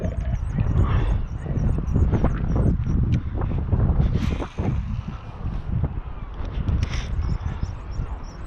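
Cold wind blowing across a riverbank buffets the microphone with loud, uneven low rumbling gusts, with faint bird chirps and scattered knocks and rustles throughout.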